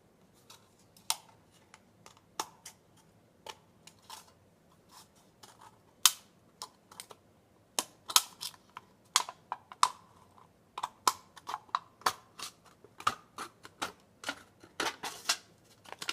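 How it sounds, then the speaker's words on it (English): Snips or scissors cut along the ridge of an aluminum drink can, producing a steady series of sharp, close clicks and crunches spaced irregularly, with no talking. "you want to start cutting along the edge of that ridge"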